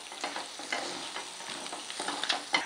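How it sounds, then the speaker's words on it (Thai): Chopped garlic and ginger sizzle in hot oil in a pan while being stirred, a steady close frying crackle with scraping strokes of the spatula throughout. "ผัดกระเทียมให้หอมเลย แล้วก็ใส่ขิงสับลงไปเลยค่ะ"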